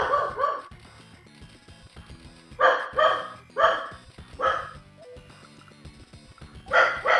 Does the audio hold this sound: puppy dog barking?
yes